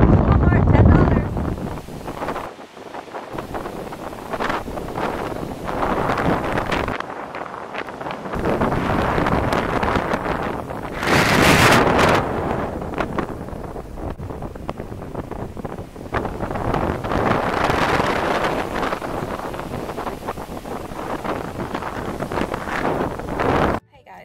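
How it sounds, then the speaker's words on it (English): Strong outdoor wind buffets the microphone in loud, uneven rumbling gusts that rise and fall throughout, with a person talking underneath. "So it's really windy out here."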